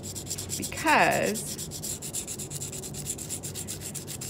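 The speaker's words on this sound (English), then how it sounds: "we're just going to lightly sand away some of these high points" Lightly sanding the high points of a tin piece for jewelry making, a fast steady rasping rub close up, with a brief spoken word partway through.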